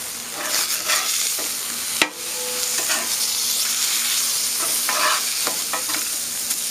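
Food sizzles and toasts steadily on a Blackstone Adventure Ready 17-inch tabletop portable griddle, a constant close hiss broken by a sharp scrape or clank of a spatula around the two-second mark and a few lighter utensil taps.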